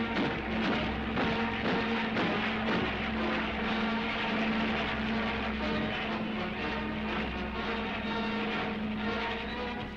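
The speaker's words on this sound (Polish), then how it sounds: "Bolszewicki bombowiec." A Soviet bomber from 1941 wartime newsreel footage drones steadily in flight, a continuous low engine hum with a strong tonal whine that holds level throughout, heard alone without speech.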